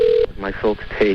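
Caller ID tone beeps on a recorded 911 emergency phone call: a few short electronic tones sound in sequence, interleaved with a voice talking over the narrow phone line.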